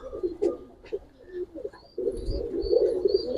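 Giribaz tumbler pigeons coo close at hand in a loft, a few short throaty calls at first, then a louder, sustained burst of rolling coos from several birds, with faint higher chirps above.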